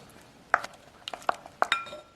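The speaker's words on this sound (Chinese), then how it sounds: "搅拌混合。" A yeast and sugar mixture is stirred in a bowl, a spoon clinking sharply against the rim several times in an uneven rhythm, close and fairly quiet.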